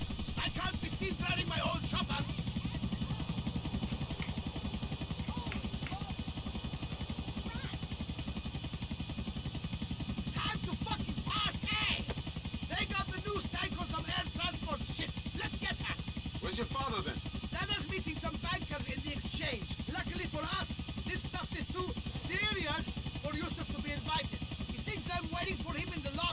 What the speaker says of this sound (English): I can't be seen driving my old chopper.